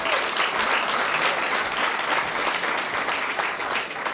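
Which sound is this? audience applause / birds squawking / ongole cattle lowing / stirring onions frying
audience applause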